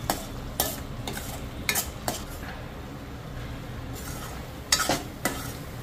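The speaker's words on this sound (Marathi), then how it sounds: "तेल सुटेपर्यंत मसाले आता आपण शिजवून देणार" Masala spices for a mutton curry cook in oil, giving a steady low sizzle with a few sharp spoon-against-pot stirring knocks and scrapes, near and loud enough, with no voices.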